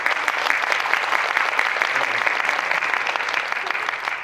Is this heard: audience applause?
yes